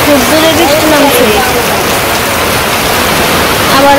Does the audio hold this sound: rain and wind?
yes